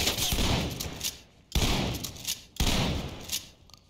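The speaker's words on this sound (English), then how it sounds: "I'm getting shot." Rapid gunfire bursts from the tactical shooter game Ready or Not, three loud, close volleys each starting sharply and trailing off over about a second, with no voices.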